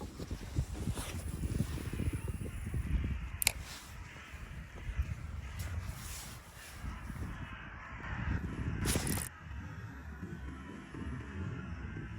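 Many birds calling, crows among them, beside a lake while pike fishing: harsh caws rise from steady wind and water noise, with a few sharp knocks and bumps near the microphone.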